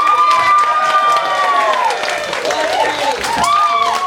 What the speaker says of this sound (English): We applause for our volunteers.